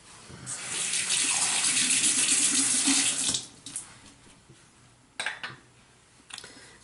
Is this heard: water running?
yes